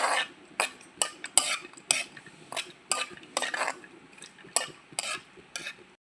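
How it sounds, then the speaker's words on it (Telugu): Cashews, coconut and raisins fry on a low flame in a pan while a spoon stirs them. Sharp scraping strokes repeat about every half second over a soft background, close up and with no talking. "జీడిపప్పు కొబ్బరి కిస్మిస్ ఇలా సిమ్లో వేయించుకోండి"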